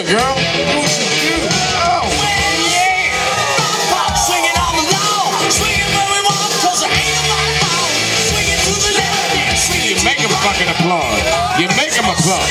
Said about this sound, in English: Applause. You make them applaud.